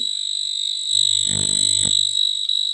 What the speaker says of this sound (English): You can hear the sound of the buzzer.